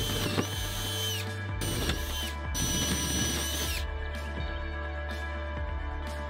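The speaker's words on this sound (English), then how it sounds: "I'm going to prop up each board so I can drill holes into the bottom section of the worm tower" A power drill bores holes into the bottom of wooden boards for a garden worm tower, with several loud, close whirring bursts over a constant low motor hum.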